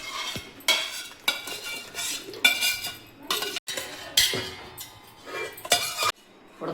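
Tamarind being stirred into an amla (Indian gooseberry) pickle in a pot, with repeated scraping and clinking strokes of a spoon against metal in bursts, close and fairly loud, no talking.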